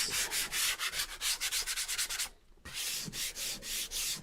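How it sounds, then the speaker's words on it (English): Sandpaper rubs back and forth over a painted surface in quick, regular rhythmic strokes, close and crisp, with one brief pause partway through. "So I'm going to sand it in the same direction."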